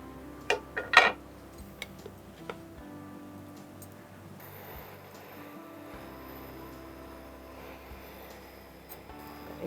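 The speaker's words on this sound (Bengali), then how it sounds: "আমি কি ফ্রাইং প্যানটা বসিয়ে দেবো?" A frying pan is set on a kitchen stove to heat mustard oil for Bengali fish paturi, giving a couple of sharp, close metallic clanks near the start. A low, steady kitchen hum follows with no talk.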